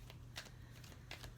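Tarot cards shuffled in the hands during a reading, a few soft quick riffling bursts over a steady low hum, faint and close.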